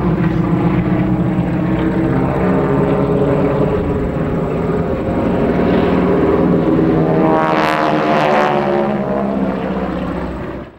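Several North American Harvard trainer aircraft of the wartime New Zealand air force fly past in formation, a loud, steady propeller-engine drone that holds throughout and swells as they pass overhead.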